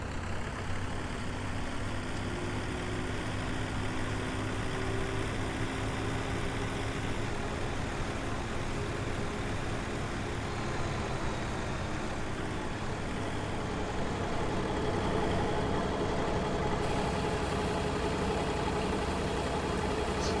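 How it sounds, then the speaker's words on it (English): Tractor engine in Farming Simulator 17 runs at a steady, continuous low drone with an idling, truck-like rumble, loud and unbroken for the whole stretch with no talking over it. "Let's go get our tractor here."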